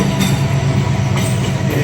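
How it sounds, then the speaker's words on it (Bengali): A container freight train carrying at least 30 containers rolls slowly through Airport railway station, a steady, loud rumble of wagons and wheels close by with no pauses. "ওই যে ট্রেনটা খুব সুন্দরভাবে যাচ্ছে, আস্তে আস্তে করে আমাদের দিকে আসছে"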